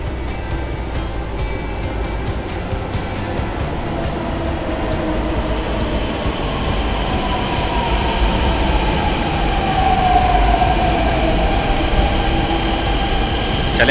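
A Delhi Metro train pulls into IP Park metro station with a loud, continuous rumble and rising electric whine, the steady roar of the wheels building toward the end.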